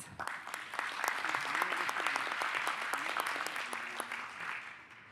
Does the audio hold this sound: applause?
yes